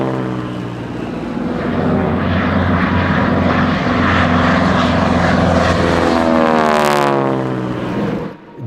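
North American T-6 Harvard radial-engine trainer in an aerobatic display: a loud propeller drone that swells as the aircraft passes close, its pitch sweeping downward before fading.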